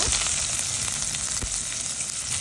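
Bay leaf, cinnamon and onion fry in oil for pulao, giving a dense, steady sizzle with a few sharper crackles and spatters, heard up close and without speech.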